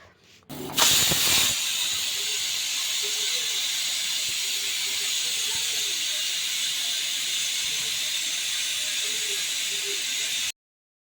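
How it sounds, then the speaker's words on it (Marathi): A pressure cooker for pav bhaji vents a steady, loud hiss of escaping steam, beginning with a sharp burst and continuing almost unchanged for about ten seconds before cutting off abruptly. "अशा पद्धतीने मी चार ते पाच शिट्ट्या घेऊन कुकरला घेतल्या"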